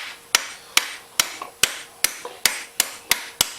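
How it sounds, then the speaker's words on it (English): Sharp metallic hammer taps drive a bearing into a Honda Recon 250 ATV's swingarm, about nine evenly spaced strikes, each with a short ringing decay, close by with no talking. "Tap it in with the hammer."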